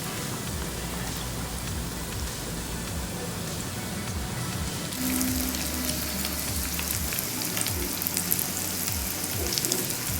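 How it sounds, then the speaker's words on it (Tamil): Chicken cheese balls deep frying in hot oil give a steady, close crackling sizzle with popping bubbles, growing noticeably louder and busier about halfway through. "இப்போ நல்லா ஃப்ரை ஆயிடுச்சு நம்மளுக்கு"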